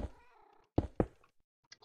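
A cat in the Minecraft-style game Mundo Wipull gives a drawn-out meow, followed by a couple of short, sharp cat cries and a faint chirp, close and fairly quiet.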